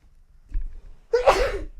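A single close sneeze, preceded by a brief quiet intake of breath.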